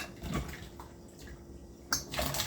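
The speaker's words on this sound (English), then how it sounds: "So add our potatoes in here." Raw potatoes tipped by hand into a pot of hot boiling water for potato salad, giving a brief close splash and plop of water over a steady low bubbling background.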